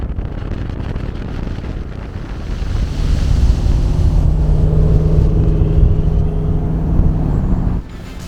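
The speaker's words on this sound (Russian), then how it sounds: "когда ты нажимаешь на газ, машина прям вот там подпрыгивает, потом начинает рычать и потом начинает ускоряться." Tuned Toyota engine growling as the car accelerates, a low rumbling drone that swells midway and holds strong, heavily buffeted by wind noise, loud and close throughout.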